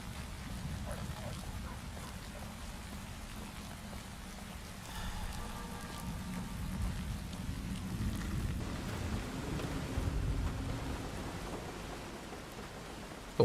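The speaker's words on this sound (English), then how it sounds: "I think the rain glitched out. It sounds kind of warbly." Steady, glitchy, warbly rain hiss from the video game Fallout New Vegas, a continuous wash with low rumbling swells that build midway, heard without talk over it.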